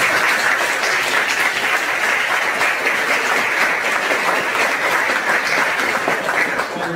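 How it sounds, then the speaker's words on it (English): Steady applause from a lecture audience at a university memorial lecture, dense and even from start to finish, standing alone with no talk over it. "Could you please join me in giving them a round of applause?"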